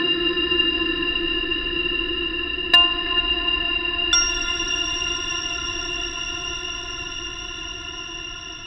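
Synth tones drenched in a large reverb plugin effect, sustained layered notes with a couple of sharp attacks that ring out into a long, slowly fading wash, heard alone without talking.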